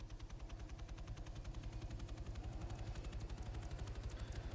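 A helicopter taking off in a military simulation video game, with a steady loud rotor chop pulsing rapidly and evenly throughout and no talk.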